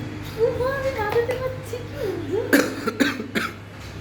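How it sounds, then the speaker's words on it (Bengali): A feverish person coughs close by in a few sharp bursts near the end, with a softer throaty vocal sound earlier over a low steady room hum. "কাশি হয়েছে সাথে"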